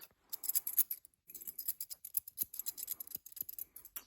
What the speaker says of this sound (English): Let's just snip that around.